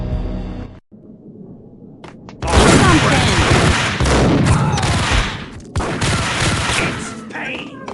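Gunfire in the video game Max Payne Mobile: a loud, dense burst of rapid shots with booming impacts, broken by a short pause and then resuming, heard over the game's background sound.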